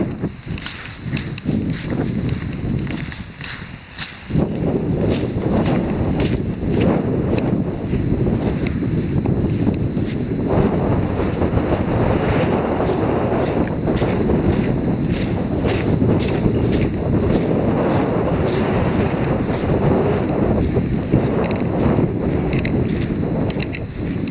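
Steady wind buffeting a microphone outdoors, a continuous loud rushing roar with gusty swells throughout, no voices.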